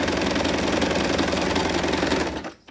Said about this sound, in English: I put the foot back down, hold my threads again, and then I'll sew some zigzag.